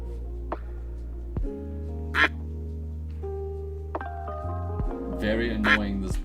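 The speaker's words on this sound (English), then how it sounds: "Very annoying, this duck." A duck quacks in short, scattered bursts over a steady electronic drone and tones, with people talking nearby.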